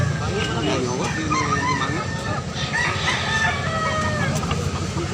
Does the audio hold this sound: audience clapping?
no